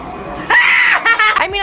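A woman shrieks with excitement, a loud, high-pitched burst lasting about a second, followed by shorter excited vocal bursts and squeals close to the microphone.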